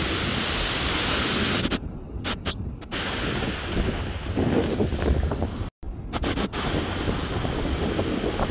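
Sea waves crash and roll onto the shore on a stormy morning while strong gusts of wind buffet the microphone, a loud, continuous roar with brief dropouts and no speech.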